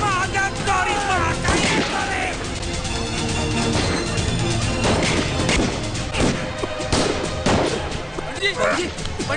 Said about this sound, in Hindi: गोली मारा